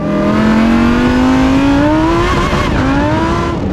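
A modified Lamborghini Huracan STO with added forced induction accelerates hard, its engine note rising steadily in pitch, briefly dipping at a gear change, then climbing again, loud and close throughout with no talk.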